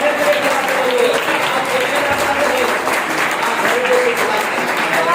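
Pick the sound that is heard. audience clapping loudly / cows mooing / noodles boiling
audience clapping loudly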